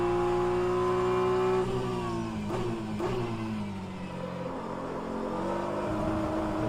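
A race car engine in rFactor 2, lapping Road America in endurance championship practice, holds a loud, steady, close-up drone, dropping in pitch as it shifts down, then building again as it accelerates.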